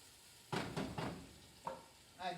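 Ground egusi seeds frying in a soup pot, heard as a few short scraping stirs with soft sizzling bursts, close and fairly quiet, with no talking.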